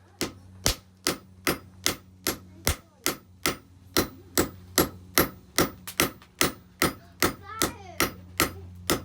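A hammer forges a square taper on hot steel at an anvil, striking about twenty loud, ringing blows in a steady, even rhythm, close and unaccompanied by speech.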